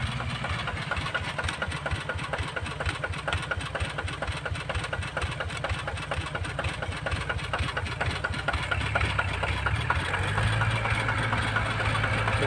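A Yanmar 120 tractor diesel engine idles steadily and close by on a farm, with a rapid, even chugging that thickens slightly toward the end.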